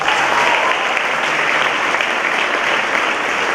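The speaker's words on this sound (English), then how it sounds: "Please feel free to applaud with as much enthusiasm as possible for the following students." Dense, sustained applause fills a hall at a 2019 high school senior awards ceremony, a steady loud wash of many hands clapping without letting up, no speech on top.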